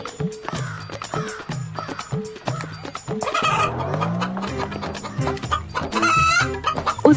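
Repeated clucking from a rooster, a run of short calls at first, then rising into busier, overlapping squawks, close and fairly loud with no talking.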